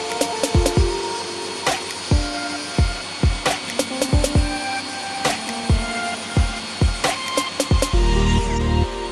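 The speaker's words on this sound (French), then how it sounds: "Je commence par découper une petite partie de chaque pièce pour enlever l'arrondi sur le côté." Handsaw cutting small wooden pieces for a Japanese-style wooden hanging lamp: a rapid run of crisp, evenly spaced rasping strokes close by, ending in a harder grinding burst as the cut finishes.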